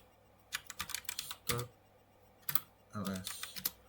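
Rapid clicking of a computer keyboard as a command is typed, irregular bursts of keystrokes with a brief pause, close and fairly soft, with faint speech-like sounds underneath.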